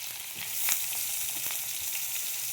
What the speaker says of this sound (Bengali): এভাবে সব এক এক করে আমি সব সবজিগুলো দিয়ে ভেজে নেব